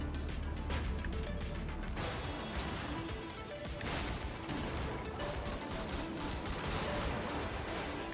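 Heavy gunfire from a shotgun in the top-down mech game Brigador, a dense, continuous barrage of blasts and crashes with no talking over it.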